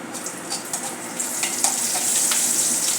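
Cumin seeds and green chillies sizzle and crackle in hot oil in a pan for Kolhapuri bhadang, a loud steady frying hiss with small pops and stirring scrapes.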